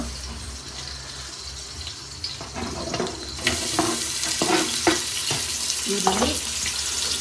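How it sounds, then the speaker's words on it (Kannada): Onion frying in ghee for tempering a mutton keema: a soft crackle grows into a brighter, louder sizzle midway, broken by repeated stirring clatter from a spoon against the pan. "ಲೈಟಾಗಿ ತುಪ್ಪ ಹಾಕೊಂಡು ಗಮ್ಮಂತಿದೆ. ಸ್ವಲ್ಪ ಈರುಳ್ಳಿ ಒಗ್ಗರಣೆಗೆ."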